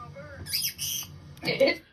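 A nearby bird lets out harsh, raspy squawks in two short bursts, with a faint voice underneath.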